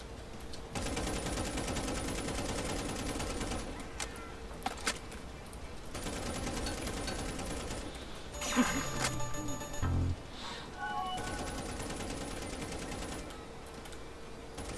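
Bursts of AK rifle fire in a multiplayer video game lobby, rapid clattering volleys running in long stretches with brief pauses between, loud and close over game sounds.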